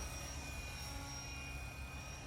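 All-metal JCZK 300c Pro RC helicopter flying: a continuous high-pitched whine of motor and rotors with a steady rushing drone, constant and fairly close, with no talking.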